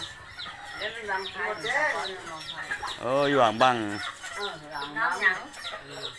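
Chickens cluck and call repeatedly nearby, with a rooster-like squawk in the middle, while a person talks over the birds.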